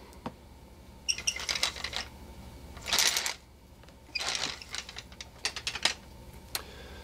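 Ice fishing reel having its old line stripped off, a close series of quick ratcheting clicks and whirring bursts separated by short pauses.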